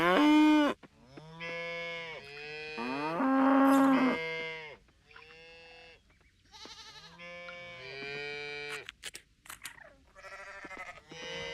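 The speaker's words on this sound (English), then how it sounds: "That's a fat cow." Cattle in the Coral Island farming game moo repeatedly, a run of loud, drawn-out calls with short gaps between them and no talking.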